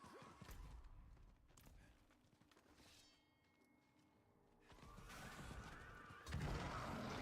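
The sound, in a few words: horse neighing in video game Diablo 4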